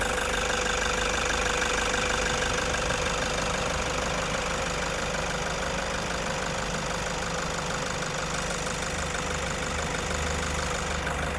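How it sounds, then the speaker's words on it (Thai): A 2016 Toyota Commuter van's 3.0 diesel engine idles steadily with a close, constant clattering knock and even vibration, uninterrupted and free of talk. "ตอนนี้เราสตาร์ทเครื่องอยู่นะคะ เสียงเครื่องดีมาก คุณลูกค้าฟังเสียงเครื่องยนต์ดูนะคะ"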